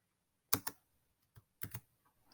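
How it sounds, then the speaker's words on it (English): Computer keyboard keys clack in quick pairs, two crisp double taps and a lighter single press, close and distinct in an otherwise quiet room, as the Alt and Tab keys are pressed. "use my Alt and Tab keys to get back to the Google Doc"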